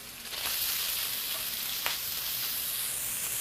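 Bacon sizzles in a pan over medium-high heat, a loud, dense, steady crackle with one brief pop, close up and with no voices.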